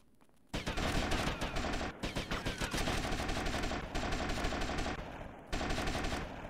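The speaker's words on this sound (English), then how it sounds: "What weapon is this? Is this an AK? Oh, it's an AK." Rapid bursts of AK rifle gunfire from the video game GTA Vice City, loud and close, sustained automatic fire with brief pauses between strings of shots.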